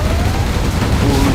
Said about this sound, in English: Gatling tank ready for action. I have many bullets.